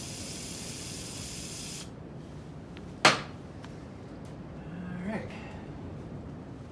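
Spray can soaking the pivot pin of a Massey Ferguson 1805 tractor, a steady close hiss of spray that cuts off, then a sharp click and a faint shorter spray burst.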